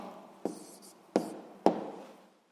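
A pen writes an answer on paper, with three sharp tapping strokes, each followed by short scratching, close and quiet.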